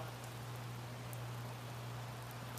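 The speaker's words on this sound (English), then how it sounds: "So we got all this rain coming down" Rain falls outside as a faint, even patter with a few sharper drops and a low steady hum underneath.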